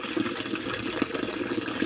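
Water running from a tap through a hand-pumped nozzle at a camping-car or campsite tap, a close, steady rushing flow with slight pulsing bubbles for about two seconds.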